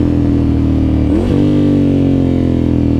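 A 2009 Ducati Monster 1100 engine drones steadily and close while riding, a rev swell and pitch shift around the midpoint before the loud, even engine note settles again.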